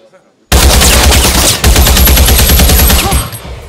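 Rapid firearm shots burst out loud and close in a movie scene, a dense volley of repeated gunfire lasting about three seconds before cutting off.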